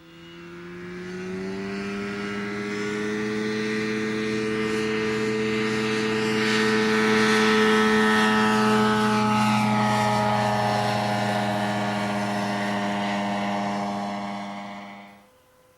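X-Air ultralight aircraft in flight, its engine and propeller droning steadily with a strong buzzing tone that swells as it passes close overhead and then fades away.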